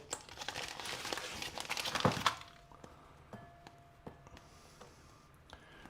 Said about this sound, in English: we're just going to unwrap this and just break this into very small pieces, just straight into my bowl, a heat-proof bowl